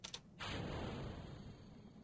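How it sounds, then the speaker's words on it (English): In the Kerbal Space Program video game, a spacecraft decoupler separates with a brief mechanical clunk followed by a steady, hissing whoosh that fades slightly as it continues, heard alone without talk. "The coupler sound works fine, it's just the engines."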